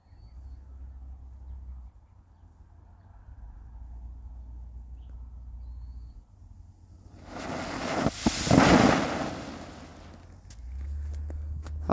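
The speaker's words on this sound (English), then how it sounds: "Sweet, that was a sparkler bomb" A homemade sparkler bomb goes off outdoors, a loud broadband hissing burst with sharp crackles lasting a few seconds, rising over steady wind noise and fading back to wind.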